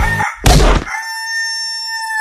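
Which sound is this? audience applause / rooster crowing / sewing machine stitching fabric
rooster crowing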